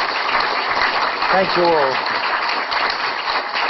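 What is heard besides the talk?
audience applause for the speakers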